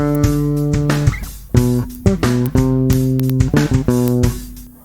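Electric bass playing a line: choppy, muted staccato notes in a bouncing funk rhythm, close and loud, with no voice.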